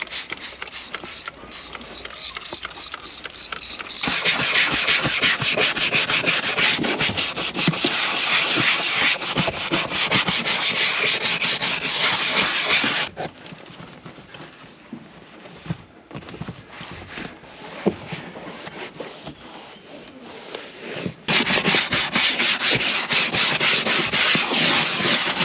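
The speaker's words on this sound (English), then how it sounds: "I'm gonna have to use some antibacterial cleaner and a brush before wiping it down." A brush scrubs hard at grimy interior surfaces of a Chrysler wagon that sat for 32 years, worked with antibacterial cleaner; the rapid, loud rubbing strokes run in long bursts, easing off midway, then return at full strength.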